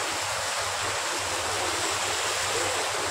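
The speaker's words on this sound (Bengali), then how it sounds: "এখান থেকে জল পড়তেছে না" Water pouring down at an outdoor spot in Assam, a loud, steady rushing roar that fills the clip without a break.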